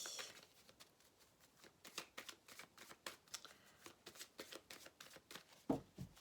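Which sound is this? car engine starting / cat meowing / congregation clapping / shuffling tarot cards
shuffling tarot cards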